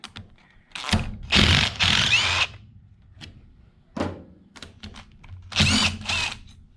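Power tool, likely an impact gun, zipping out the last bolts on a 2003–2006 Jeep Wrangler TJ/LJ Rubicon rear differential: several loud, close bursts of whirring and rattling, separated by short pauses.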